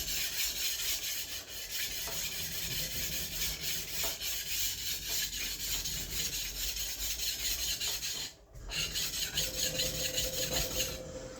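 A planer knife is sharpened by hand on a coarse diamond plate in a workshop, giving a continuous loud, close rasping scrape. The strokes run back and forth steadily with one brief pause near the end and no talking.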